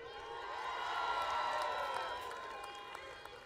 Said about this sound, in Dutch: Applaus voor Rio T.